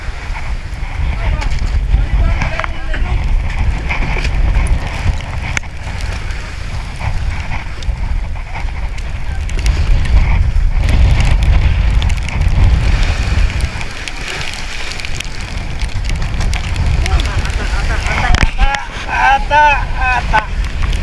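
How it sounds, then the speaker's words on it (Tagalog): Strong wind and heavy rain batter a fishing boat out at sea, a dense, rough rumble with gusty surges that runs continuously, loud and close, while voices speak over it. "pati ulan malakas, hangin malakas"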